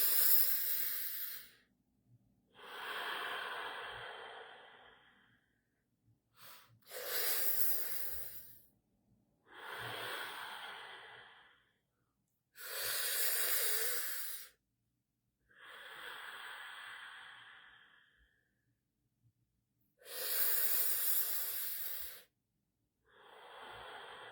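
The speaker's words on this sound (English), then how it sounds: "you can even just breathe in through the mouth, exhale through the nose" Slow, deep breaths during a guided breathwork session, about nine long airy breaths drawn in through the mouth and let out through the nose, each lasting a couple of seconds and separated by near silence, close and fairly loud.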